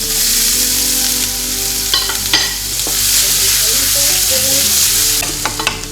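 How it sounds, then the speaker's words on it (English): Spring onion and garlic sizzling loudly in a frying pan, with a steady crackle, a constant low hum underneath and a few clinks and scrapes of stirring. "so it will not stick in your fry pan. And so I'm gonna add spring onion and garlic"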